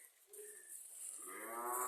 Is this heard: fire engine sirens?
no